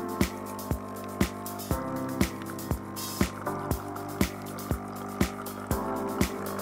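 A Nescafé Dolce Gusto Infinissima coffee machine runs its rinse cycle, giving a faint pump hum and water flowing into a container, punctuated by regular sharp clicks or drips about every half second.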